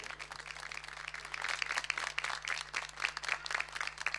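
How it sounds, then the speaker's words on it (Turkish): Audience applause welcoming a speaker to the stage at an association event, steady, dense clapping from a crowd that builds slightly in loudness and continues throughout, with a low steady hum underneath. "alkışlarınızla bir davet edelim efendim"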